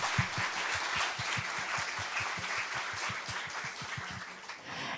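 Sustained applause from an audience welcoming a guest at the Asian Science Camp 2022 opening, steady dense clapping with audible individual claps, no voices.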